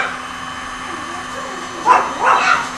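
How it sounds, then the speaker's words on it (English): A couple of sharp dog barks ring out near the end, close and fairly loud, over a steady background hum. "We're just running around barking, making noise."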